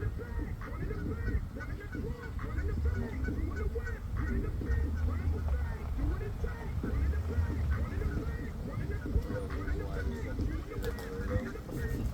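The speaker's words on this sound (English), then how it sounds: "All the geese are showing up." Geese honk repeatedly at a small lakeside get-together in Port Colborne, their calls steady and fairly close over ongoing outdoor bustle, with people talking throughout.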